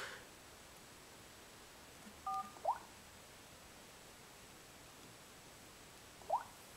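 Short dialer keypad tones from a Samsung Galaxy S2 i9100 running MIUI v5, a few faint, isolated beeps spaced seconds apart over quiet background hiss, with no talking.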